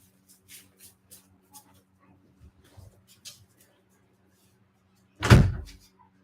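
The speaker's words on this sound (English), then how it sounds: "Let me go put the dogs out." Dogs are let out through a house door: a series of light tapping steps and small clicks in a quiet room, then a single loud door thud near the end.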